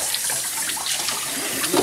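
Tap water runs steadily during a Yorkie's bath, a continuous splashing hiss with no talk over it.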